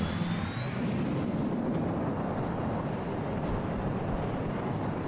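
A Boeing 747 in a flight simulator game builds to a steady, loud jet engine roar as it accelerates on the runway, with a thin rising whine above the noise and no voices.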